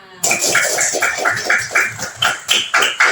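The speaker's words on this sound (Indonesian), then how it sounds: "Tepuk tangan" Children in a classroom clap in unison, giving a rhythmic series of sharp, evenly spaced group claps that grows a little stronger toward the end.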